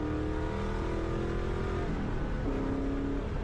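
A V8 car, a 1999-era 4.6 with a Borla aftermarket exhaust, accelerating hard, its loud steady engine note rising and shifting pitch midway, close and continuous with no talking.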